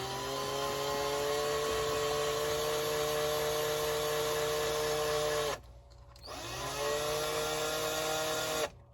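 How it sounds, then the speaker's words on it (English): A power drill running in reverse whirs steadily at high speed, stops briefly, then spins up again and runs until cutting off, close and loud. "my drill was going backwards"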